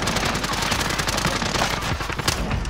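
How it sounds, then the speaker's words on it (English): Rapid automatic gunfire in Call of Duty: Modern Warfare, loud dense bursts of rattling shots filling the whole moment with no pause. "Receiving hostile fire."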